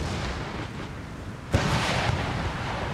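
Rockets fire in Empire: Total War during a battle, a sudden sharp blast cracking out midway after a low rumbling backdrop, followed by a sustained roar and scattered thumps.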